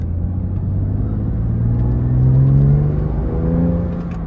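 BMW M2 Competition accelerating hard while drifting, a loud engine roar rising and falling in pitch across a steady, close-up rumble with no break.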